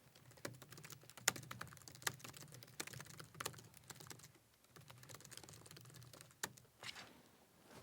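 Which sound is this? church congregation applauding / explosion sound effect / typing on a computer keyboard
typing on a computer keyboard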